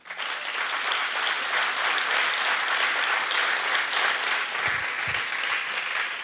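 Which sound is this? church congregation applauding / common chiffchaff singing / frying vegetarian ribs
church congregation applauding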